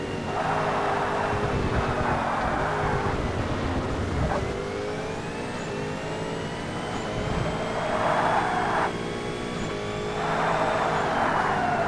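An R P1 championship-class prototype race car drives in Forza Motorsport, its engine a loud, continuous whine that climbs and dips as it shifts and brakes, with bursts of louder roar recurring through the run.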